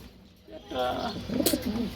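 Pigeons for sale, a male and female pair, coo in a few soft, rolling calls close by, with a faint voice in the background.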